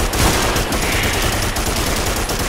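Rapid automatic gunfire rattles loud and close in the dinosaur shooter video game Primal Carnage, a continuous dense burst of shots lasting the whole moment.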